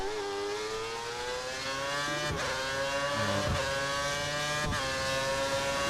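Formula 1 race cars in the F1 2013 video game scream along at high revs in a steady, continuous drone, with brief gear-change dips and no talk.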